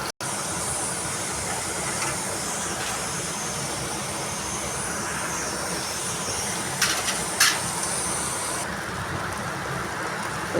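Onions sizzle in hot oil with cumin and curry leaves for a potato dosa filling, a steady, close, hissing fry that holds even throughout, with a few faint utensil clicks.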